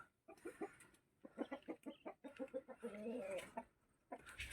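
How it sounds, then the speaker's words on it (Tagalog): An old Rhode Island Red hen clucks in quick, close, faint bursts, a series of short rhythmic clucks with brief pauses between runs. "yung Rhode Island Red na matanda na yan"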